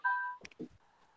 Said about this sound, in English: We got a phone call coming in.